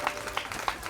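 A church congregation at a Sunday service claps for the Lord, three or four soft distinct claps spaced roughly evenly, faint and somewhat distant.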